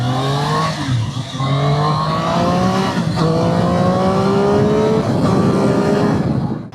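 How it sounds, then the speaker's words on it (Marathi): Triumph Street Triple R superbike engine pulling hard on an open road, revs climbing in rising sweeps through several gear changes, loud and close with steady wind noise throughout. "एकदम स्मूथ आहे इंजिन, एकदम रिफाईंड."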